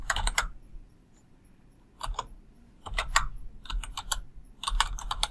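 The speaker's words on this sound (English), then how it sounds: "Here you can type any random text." Text is typed on a computer keyboard in quick bursts of close clicking keystrokes, broken by brief pauses between runs, with no talking.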